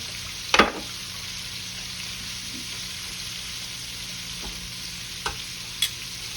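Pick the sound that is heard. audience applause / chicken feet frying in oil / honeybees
chicken feet frying in oil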